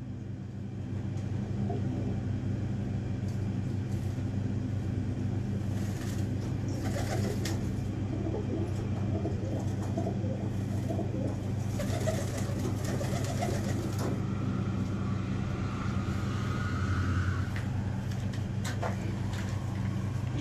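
Teddy pigeons, a home-bred line kept for generations, coo softly and repeatedly over a constant low background hum, with occasional faint rustles and no talk.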